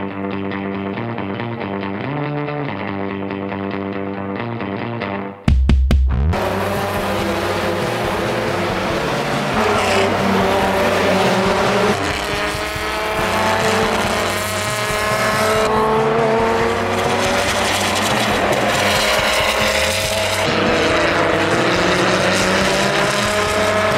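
Race cars on track during the final race of the year: a steady engine drone, then a sudden loud burst of revving engines with rising and falling pitch sweeps, close and sustained to the end.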